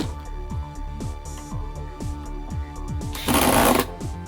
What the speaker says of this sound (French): Bon, je finis à la visseuse.